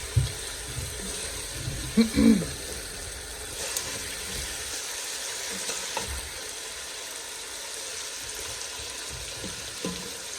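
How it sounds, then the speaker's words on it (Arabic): Chicken sautéing in a pan with spices and onion, a soft steady sizzle with a couple of louder stirring scrapes early on, then settling into a quieter, even crackle. "قلبت الدجاج مع البهارات، شوح شوية والبصل"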